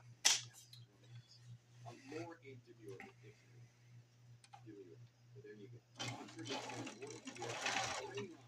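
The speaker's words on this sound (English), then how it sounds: "When you're running fabrics through like denim, you want a thicker needle, and there is a thicker needle in there." A sewing machine stitches a denim shop apron with a thicker needle fitted, its low motor hum running steadily beneath a person talking throughout, with a louder burst of stitching near the end.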